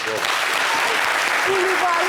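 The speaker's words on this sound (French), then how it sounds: "Applaudissez pour elle." A crowd applauds steadily and densely throughout, with cheering voices mixed into the clapping.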